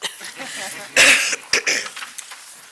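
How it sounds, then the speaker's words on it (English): A single sharp cough bursts out during a city council meeting, followed by a shorter second one, close to the listener, with some low background talk around it. "I haven't been coughing all the entire meeting, and now I start."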